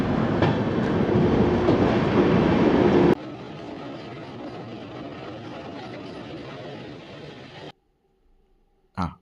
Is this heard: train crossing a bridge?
yes